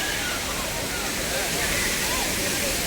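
Water pours steadily at Gandahati waterfall, a dense, even roar of falling water that fills the whole stretch without a break, loud and close, with no clear voices above it.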